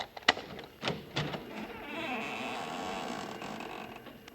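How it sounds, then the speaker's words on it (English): A front door's hinge creaking as the door swings open, a couple of sharp bursts followed by a steady rustling squeak, fairly faint and without voices. "Maybe you heard the hinge squeak a little."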